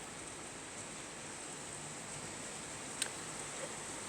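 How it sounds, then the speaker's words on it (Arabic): Steady rain falling outside on a stormy winter day, a constant soft hiss with no talk over it, heard from indoors near a kitchen, with one brief faint tap partway through. "سامعين الشتا يا جماعه حلو ازاي؟"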